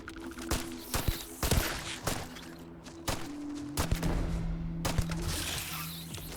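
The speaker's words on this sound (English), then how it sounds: "I'm just shooting flowers out here." Gunfire in the video game Starfield as a weapon is shot at flowers in an open field: sharp, loud shots spaced irregularly, with some clustered bursts, over a steady background hum.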